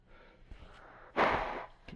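A person blows their nose hard in one loud, breathy burst midway, with fainter sniffs and small rustles around it, close to the listener and with no talk.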